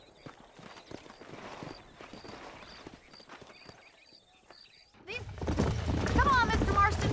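Horse hooves clip-clopping in the western game Red Dead Redemption, light rhythmic steps under a voice, then a louder, fuller gallop with mixed sounds breaking in near the end.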